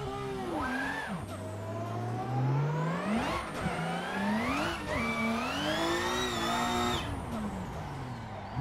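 A Toyota Supra drift car screams through repeated high revs in Assetto Corsa, its engine pitch rising and falling in waves with brief cuts between pulls, loud and close with no voices.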